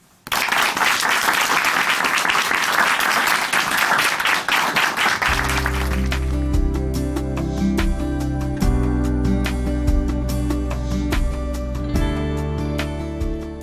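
An audience at Chuncheon Hanmaum Church claps steadily for about five seconds to welcome someone speaker to the stage, then the applause fades into a steady instrumental music bed.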